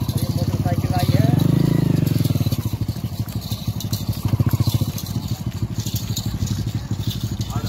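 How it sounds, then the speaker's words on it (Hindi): A motorcycle rumbles close by at an Indian livestock fair, its engine thumping in a rapid, steady beat that swells as it draws near and then keeps chugging at idle, with someone talking over it. "ये मोटरसाइकिल आई है,"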